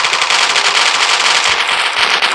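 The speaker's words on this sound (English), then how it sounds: "Now we can show off our PKM, which is one of the LMGs in this game." A PKM light machine gun in the free mobile FPS Coalition fires one loud, sustained, rapid automatic burst for a couple of seconds, close and unbroken, with no talking.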